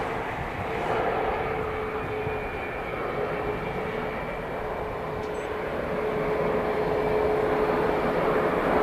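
An aircraft engine at Manchester Airport sends out a sustained, fairly loud broadband roar that swells slightly toward the end, with no voices over it.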